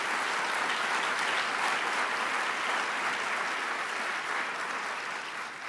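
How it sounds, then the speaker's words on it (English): An audience applauds the servers at the Intercontinental Hotel during the EdVestors School on the Move award ceremony, with sustained, even clapping from a large crowd, moderately loud and alone. "Can we give the servers a round of applause?"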